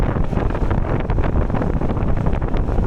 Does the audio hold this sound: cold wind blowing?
yes